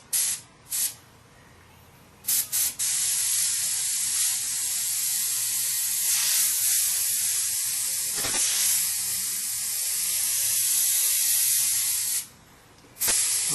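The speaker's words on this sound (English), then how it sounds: "Test your airbrush. Make sure it's spraying right." An airbrush loaded with black paint for outlining a skull on a T-shirt hisses in a steady, bright spray that runs almost continuously, broken by a few short pauses near the start and one near the end.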